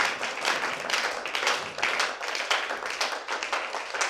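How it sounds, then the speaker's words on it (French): A church congregation claps together in acclamation during a sermon, a dense, rhythmic run of hand claps in steady beats with no talk. "Acclamons le Seigneur Jésus."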